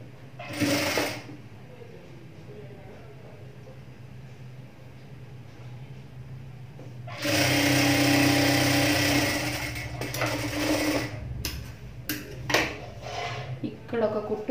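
A sewing machine stitches a blouse in two bursts, a short whir at the start and a longer run midway, with quiet gaps between and faint handling clicks near the end.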